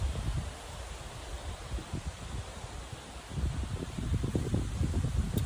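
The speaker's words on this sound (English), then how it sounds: "I'm waiting for this wind blast to go by here for 1 second." Gusty wind blowing outdoors, a steady low roar with rushing buffets against the microphone that ease slightly in the middle and swell stronger toward the end, with no talking.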